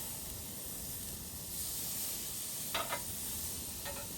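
A sirloin steak sizzles steadily on a Weber grill, a constant close hiss and crackle with a few brief sharper pops, and no talk over it.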